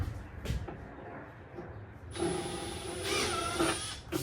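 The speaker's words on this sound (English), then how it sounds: "Drilling through plastic's fun." A close power drill whines steadily for a couple of seconds after a short pause, grinding through plastic with a rough, high buzz.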